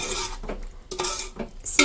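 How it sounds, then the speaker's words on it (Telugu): A utensil stirs chicken gravy in a pot in a few quick, close strokes, with scrapes and clinks against the metal and a faint sizzle underneath, with no speech. "ఇది వేసి బాగా కలుపుకొని మూత పెట్టేసుకోండి."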